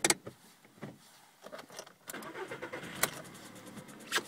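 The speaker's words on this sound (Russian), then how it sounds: "Сейчас я запущу двигатель." A warmed-up VW Polo sedan with a 1.6 CFNA engine that knocks after a warranty repair is started, with key and switch clicks first, then the starter cranking and the engine catching into a quiet idle.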